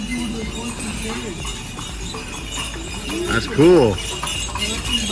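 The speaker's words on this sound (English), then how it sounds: "Here comes the horse." Horse hooves clip-clop along a street in Old Havana, a steady nearby rhythm of clopping under casual talk from people walking, with a brief louder burst partway through.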